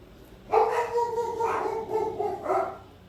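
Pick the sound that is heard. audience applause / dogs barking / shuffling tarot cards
dogs barking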